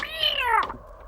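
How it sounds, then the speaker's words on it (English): A single drawn-out cat meow, loud and close, falling in pitch before a short clipped end, with no talking. "Have you fed that cat?"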